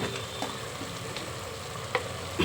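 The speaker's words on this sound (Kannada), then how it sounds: "ತರಕಾರಿ ಸ್ವಲ್ಪ ಇದರಲ್ಲಿ ಬೇಯಲಿ" Chopped vegetables cook in a hot oil tempering for avarekalu (field bean) pulao, giving a steady close sizzle with a few soft clinks of a spoon against the pan.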